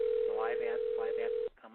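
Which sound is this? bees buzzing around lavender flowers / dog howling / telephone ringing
telephone ringing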